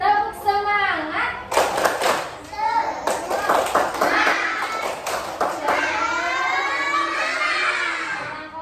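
Schoolchildren in a second-grade class perform the tepuk semangat clapping routine, rhythmic group claps mixed with their chanting voices and an adult speaking.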